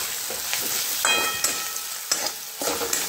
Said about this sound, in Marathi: आता यांना परतून घेते चांगलं.